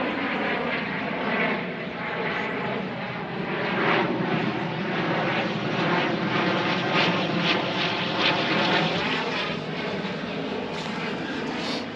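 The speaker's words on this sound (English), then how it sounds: "here comes a big old jet" A big jet airliner passing over a rural homestead, a steady, broad engine roar that stays loud and even throughout, with no one talking.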